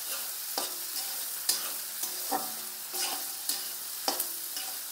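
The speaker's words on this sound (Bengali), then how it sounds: "পেঁয়াজ একটু লাল লাল করে ভেজে নেব।" Onions fry for biryani until reddish-brown, giving a soft steady sizzle broken by repeated sharp scrapes and clinks of a spoon stirring in the pan, at a low level with no voices.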